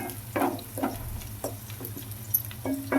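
Curry leaves fry in a pan for ridged gourd curry, giving a steady low sizzle with repeated soft stirring scrapes and clicks throughout, close and moderately quiet, with no talking.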